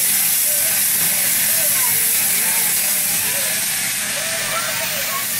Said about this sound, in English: Is that a steam train? Can you see the steam train?